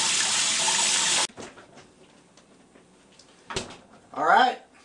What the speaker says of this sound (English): Use hot water. It helps to get it off the pan better.